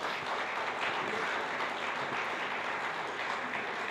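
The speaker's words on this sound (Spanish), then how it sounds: "Démosle un aplauso" A congregation at a Bible seminary session applauding, a moderately quiet, steady patter of many hands clapping that continues evenly throughout, heard from some distance without speech over it.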